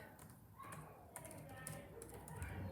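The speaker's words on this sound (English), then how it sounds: "So I have a blank document now and I can start typing." Keys clatter on a computer keyboard as someone starts filling a blank document in a writing program, soft irregular taps heard quietly at close range, with faint voice-like sound in the background.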